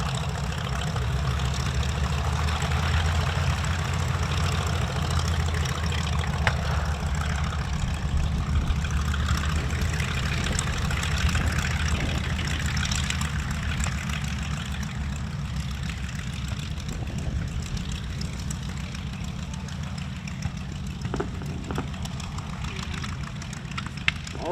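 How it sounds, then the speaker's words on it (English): The engines of a B-25J Mitchell bomber drone on steadily before takeoff at a warbird event, a loud, continuous low rumble with rough, throbbing texture throughout and no talking. "with those right engines turning, burning, preparing to hurl our B-25 skyward"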